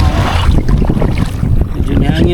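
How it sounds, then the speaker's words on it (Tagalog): Strong wind buffets the microphone out at sea during kayak fishing off Cebu in the Philippines, a loud constant rushing roar with water sloshing against the kayak underneath. "Medyo hangin na siya."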